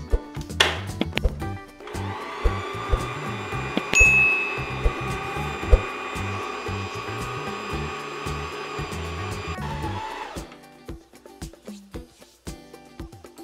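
Electric stand mixer beating sweet bakery dough with flour for filled doughnuts, a steady whirring hum running for about eight seconds with clanks and knocks before and after.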